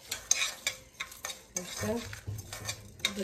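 Whole coriander, cumin and dried chili rattle and scrape in a hot pan as a spoon stirs them during dry roasting, with soft crackles and clinks at a steady, quiet level.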